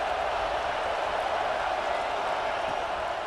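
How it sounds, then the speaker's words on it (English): Home stadium crowd in the college football game EA Sports College Football 26, a steady, dense roar of cheering with no breaks throughout. "how nice is it to have the home crowd going absolutely bananas?"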